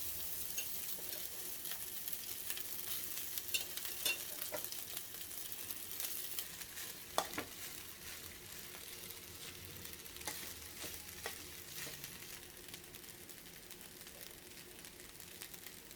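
Cooked rice being stir-fried with a tempering of spices in a pan for Telugu popu annam, giving a steady soft sizzle with occasional scraping clicks of a spoon, continuous and fairly quiet, with no talking.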